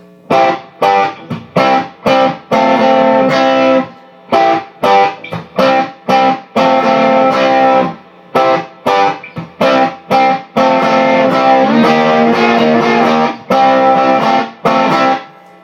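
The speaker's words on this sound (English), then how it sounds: "So we'll get some nice warm distortion going. This is the benchmark. This is with the magic tube in it." An electric guitar plays through a tube overdrive pedal for warm distortion, loud and alone, strumming choppy chords in stop-start bursts with short silences between phrases.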